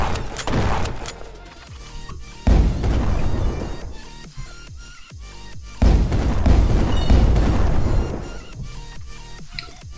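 Rocket explosions in the Roblox Jailbreak video game hit as repeated loud booms, with sharp bursts around two and a half and six seconds amid chaotic crackling game noise, no talk.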